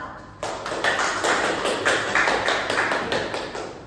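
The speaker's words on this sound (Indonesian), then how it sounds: "Kita beri tepuk tangan untuk kelompok 2." A primary school class claps for a group of pupils in a dense, continuous round of quick claps, close and loud, starting abruptly after a brief quiet moment.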